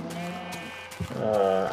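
Sheep bleating in the Minecraft video game, several short wavering bleats close and clear with no talk, the last one louder and more sustained.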